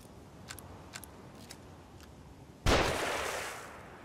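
A single loud, sharp sniper rifle shot in The Evil Within cracks out close after a few faint clicks, then rings and fades over the next second.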